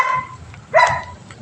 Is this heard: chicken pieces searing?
no